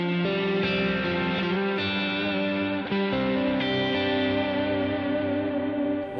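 An electric guitar played through a reverb effect rings out in sustained, shimmering chords and notes, loud and continuous, with a long wash of echo that keeps sounding between changes.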